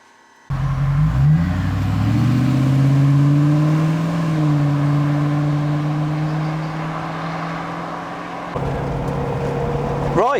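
A Land Rover Defender 90 with stage 3 cylinder heads and a Piper 270 camshaft drives along. Its engine note climbs steadily as it revs up, then holds a steady drone before easing off with a shift near the end.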